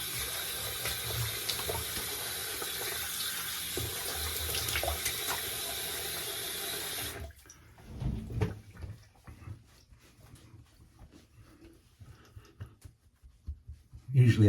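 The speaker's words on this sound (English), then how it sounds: "Let's rinse off" A bathroom tap runs steadily in a loud, even water rush for about seven seconds while rinsing after a shave with Gillette Minora blades, then shuts off, leaving faint splashes and handling noises.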